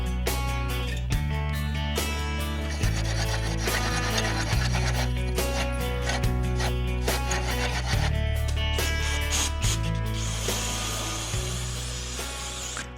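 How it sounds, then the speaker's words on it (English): An engine flywheel on a Coleman RSV 196cc engine is lapped with valve grinding compound, producing a loud, steady whirring drone whose pitch steps up and down, overlaid with gritty scraping and grinding. "I'm gonna lap this flywheel in real quick with some valve grinding compound"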